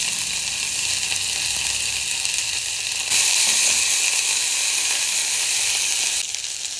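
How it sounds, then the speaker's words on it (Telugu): Mint leaves frying in a pan give a steady, bright sizzle that swells louder midway and then eases back, continuous and close with no talking. "పుదీనా కూడా వేగిపోయింది"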